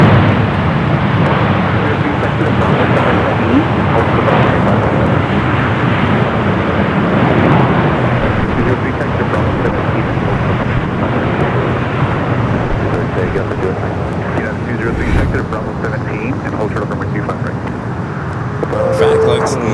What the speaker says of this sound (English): Flight 255 coming in from JFK, a 27-year-old 777 at 200 ER.